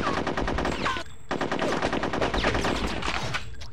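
Rapid machine-gun fire in the video game Conker's Bad Fur Day, dense loud bursts rattling almost continuously with one brief pause, close and harsh.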